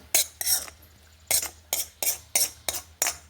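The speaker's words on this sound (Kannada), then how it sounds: "ಇದನ್ನೀಗ ಬೌಲಿಗೆ ಹಾಕೊಂಬ" Corn masala being spooned into a bowl: a series of short, crisp metallic scrapes and clinks with brief pauses, close and fairly quiet, with no voices.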